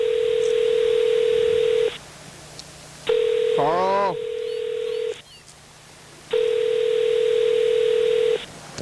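A telephone rings out while calling someone, with a steady tone repeating in long bursts about two seconds each, separated by pauses; someone speaks briefly during one burst.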